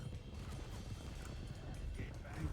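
Horse hooves clip-clop in Red Dead Redemption 2, a faint, steady rhythmic patter of hoofbeats running throughout, with voices talking over them.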